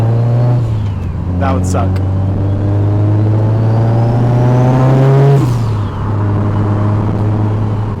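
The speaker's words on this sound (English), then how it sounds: "nice clutch burnout" A Mitsubishi Evo 8 with a new motor does a clutch burnout, its engine held at a loud, steady high-revving drone that surges, drops sharply, then settles again. A person talks briefly over it.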